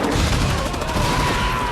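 Artillery fire in a war film, dense continuous rumbling barrage with heavy low booms and crackle, loud and sustained without pause.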